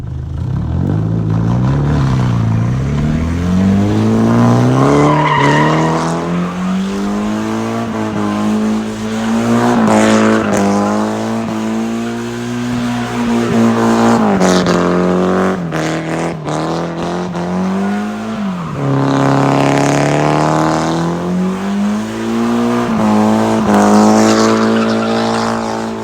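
A car drifting at a car meet, its engine note rising and falling as the tires squeal loudly and continuously for a long stretch, close and dominant.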